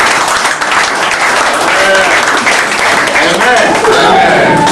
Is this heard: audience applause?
yes